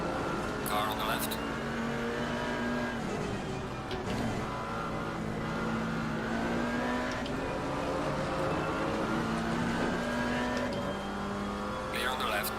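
GT4 race car engines during an ACR league race at Kyalami, droning and rising through repeated gear changes with a passing whoosh or two, loud and steady while someone talks over them.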